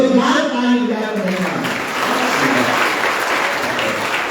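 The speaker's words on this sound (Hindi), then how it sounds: "जोरदार ताली बजा कर" Loud, dense applause from an audience at a spiritual discourse held in a college in Fiji, continuous and steady from start to finish, with a voice briefly heard at the start.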